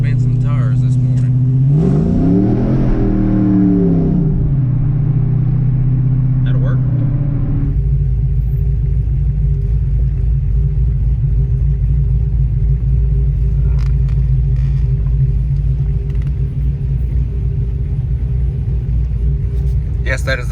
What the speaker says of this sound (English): I do want to spin some tires this morning.